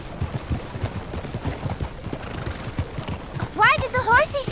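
Horse hooves clip-clop steadily in Red Dead Redemption 2, a rapid rhythmic patter of hoofbeats close by, with a voice speaking briefly near the end.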